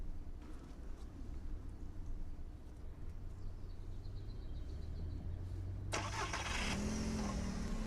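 Volkswagen car engine starting: a low idle-like rumble, then the engine cranks and catches with a sudden loud burst about six seconds in and settles into a running hum.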